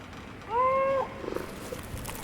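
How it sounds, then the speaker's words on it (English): A cat meows once in the video game NEYYAH: a single clear, drawn-out tonal meow lasting about half a second, followed by faint soft shuffling and quiet background ambience. "Okay, there's a cat. There's a cat. Nice kitty."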